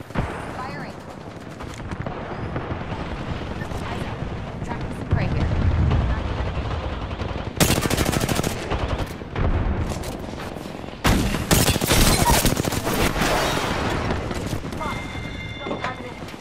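Gunfire in the Apex Legends battle royale game, with dense bursts of rapid shots and heavy booms close by, alternating with quieter stretches of movement noise and brief in-game voice callouts.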